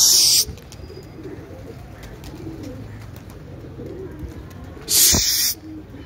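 Pigeons at a pigeon loft give soft low cooing under faint background sounds, with two short loud bursts of wing flapping or rustling, one at the start and one near the end.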